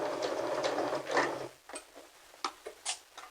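A sewing machine runs a straight stitch across fabric for a clutch purse, a steady mechanical whir for about a second and a half, then a few sharp clicks and taps as it stops.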